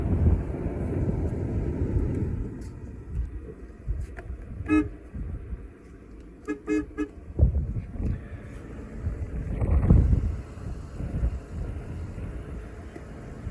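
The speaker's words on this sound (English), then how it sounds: "I've got a 4-note horn hooked up to the car from a Cadillac." A four-note Cadillac horn fitted to a 1999 Lincoln Town Car sounds in a few short honks in the middle, over wind noise and low rumble outdoors.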